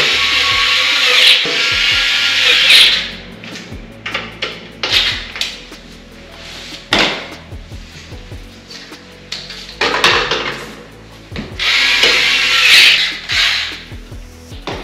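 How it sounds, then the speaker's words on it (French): Screws are driven by a power tool into a Flexispot motorised desk frame, with repeated short whirring bursts separated by pauses and clicks and handling noise, close and fairly loud, with no talking. "Donc, il n'y a plus qu'à visser."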